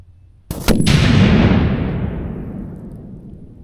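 A thunder mug signal cannon loaded with a quarter cup of black powder fires outdoors with a single sharp, heavy boom, followed by a long rolling rumble that slowly fades over several seconds.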